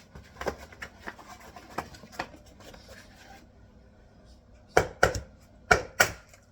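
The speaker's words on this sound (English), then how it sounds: "crack an egg" An egg cracked against a bowl and dropped into raw ground meat for meatballs: light tapping and rubbing at first, then several sharp, close knocks as the shell breaks, loud and dry with no talking.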